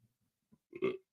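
One short, low guttural burp, fairly quiet and close, preceded by a couple of faint throaty grunts, with no speech.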